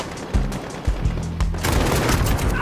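AK rifle fire in the Modern Warfare video game: several loud, close bursts of rapid shots, ending in a sustained volley with booming reports.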